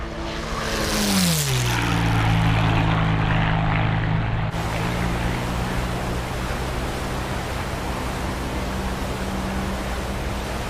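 Propeller warplanes take off in a naval war game set at Pearl Harbor in 1941: a loud engine drone rises in pitch as the aircraft climb away, then settles into a steady, dense roar of many planes that fills the sky.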